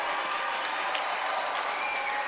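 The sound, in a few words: hockey crowd reacting to a penalty call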